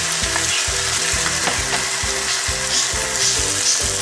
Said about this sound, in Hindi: जिंजर पेस्ट डालकर इसको मज़ीद 5 मिनट के लिए भूनेंगे